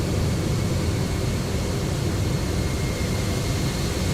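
GE jet engines on a FlightFactor 767-300 airliner in the X-Plane 12 flight simulator, a steady, loud, broadband roar with a low rumble, unchanging throughout and with no voices.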